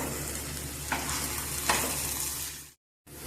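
Lemon peel pickle sautéed in a pan, a steady close sizzle with two small scraping stir sounds, cut off briefly near the end before resuming.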